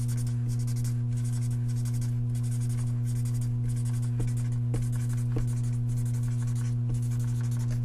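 Steady scratchy strokes of a highlighter marking printed playing cards on paper, in short regular passes over a loud constant electrical hum.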